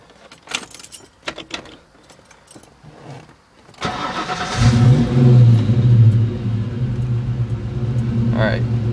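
1994 Ford Mustang Cobra 5.0 starts with a cranking burst, then settles into a deep, loud exhaust idle that rises slightly and rumbles steadily, with keys and handling noises before the start.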